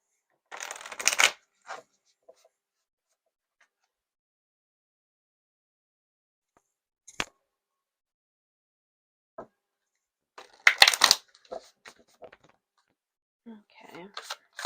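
A deck of reading cards is shuffled up close for a pick-a-card reading, with two crisp riffling bursts separated by quiet and a few small taps and card handling sounds between them.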